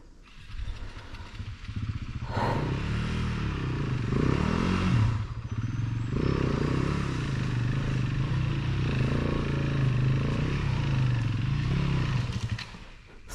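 A motorcycle engine driven by a rider learning the clutch rumbles loudly and unevenly for several seconds, then abruptly cuts out as it stalls.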